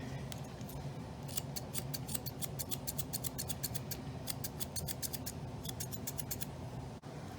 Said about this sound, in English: So I'm going to trim some of Cole's front fur here